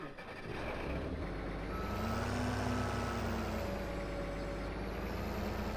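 A tractor engine drones steadily in Farming Simulator 17 as it backs up to a Seed Hawk seeder, with a constant loud hum and faint tonal whines over it and no voices.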